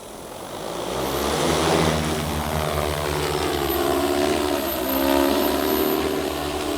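A Panax 20T Demeter V2 agricultural spray drone spins up and flies, its rotors a loud, steady droning whir that builds over the first second and then holds with slight swells.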